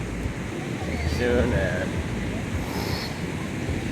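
Ocean surf at Rosarito Beach, Mexico, washes in as a steady broad roar with wind buffeting the microphone, and someone talks over it.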